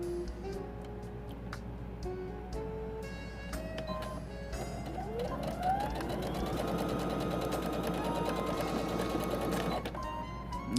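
A sewing machine stitches a pot holder with a steady rapid mechanical whir and ticking. It speeds up partway through into a louder, higher hum and runs close and continuous.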